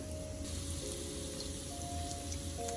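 Welch's cockle cake fries in bacon oil in a Jamaican home kitchen, giving a soft, even sizzle that carries quietly and without a break.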